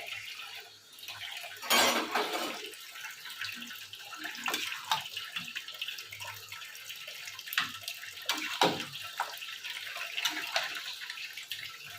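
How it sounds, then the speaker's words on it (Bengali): Water from a tap runs and splashes into a cooking pot as spices are rinsed out, a steady close wash with occasional clinks of the pot throughout. "এটা একটু ধুয়ে জল দেবো, আগে একটু নাড়িয়ে নিই তারপরে।"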